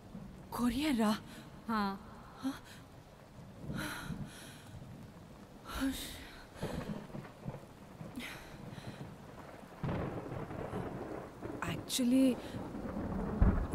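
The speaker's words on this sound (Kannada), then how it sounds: "ಮಳೆ ನೋಡಿದ್ರೆ ಯಾಕೋ ಇವತ್ತು ಕಡಿಮೆ ಆಗೋ ಥರ ಕಾಣಿಸ್ತಾ ಇಲ್ಲ." Heavy rain pours steadily, with thunder rumbling now and then, under an ongoing conversation between people indoors.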